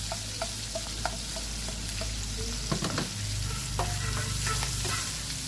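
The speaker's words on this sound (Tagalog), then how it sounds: "Pag ganyan na mga idol, lagay ko ng luya sa kabawang." Ginger and garlic frying in a pan for ginataang gabi, a steady loud sizzle with occasional scrapes and taps of a stirring utensil, no talking.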